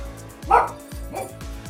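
A dog barks at curling on television, giving two short, sharp yips close by over a low background of broadcast sound.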